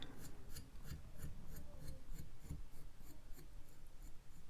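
A knife blade is drawn across a sharpening stone in quick repeated strokes, a faint rhythmic scraping about two or three passes per second, close up with no talk.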